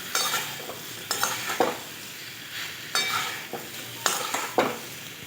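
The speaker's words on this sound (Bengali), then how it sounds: "কুমড়ো পটল আলু দেওয়ার পরে আমি 1 মিনিট কম আঁচে ভালো করে কষিয়ে নেব" Pumpkin, pointed gourd and potato are sautéed in a pan over low heat, giving a soft steady sizzle broken by several sharp scraping stirs of a utensil against the pan.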